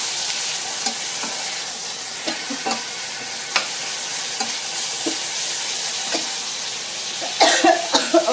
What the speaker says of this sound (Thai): หลังจากนั้นก็ใส่นกกระทาลงไปผัดค่ะ